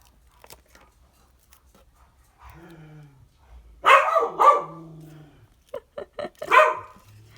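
Dogs bark indoors in a few sharp, close bursts among softer whines and growls, with quiet stretches in between.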